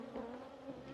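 Steady droning buzz of honeybees close by at an opened hive in the rain, a continuous hum with slight swells, no voices.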